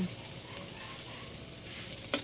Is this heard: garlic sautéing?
yes